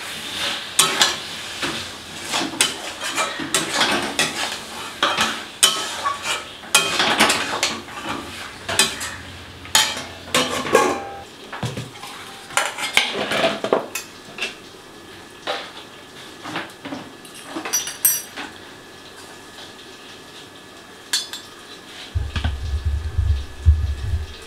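A spoon stirs and scrapes boiled potatoes into a cooked spice masala in a pan, giving a busy run of clanks and scrapes over a faint sizzle, with a brief low rumble near the end.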